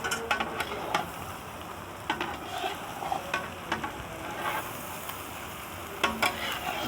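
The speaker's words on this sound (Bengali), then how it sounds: "এরকমভাবে টমাগুলো দিবে, দিয়ে একটু ভালোভাবে নাড়াচাড়া করে নেবে।" Tomatoes fry in a pan for egg curry while being stirred, giving a soft, steady sizzle broken by repeated scraping and clinking strokes of a spoon against the pan.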